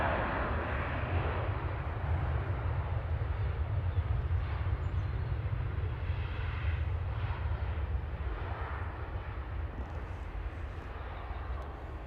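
An airliner arriving from Amsterdam touches down at Manchester Airport with a steady, broad engine roar and a heavy low rumble that carry on throughout at a moderate distance.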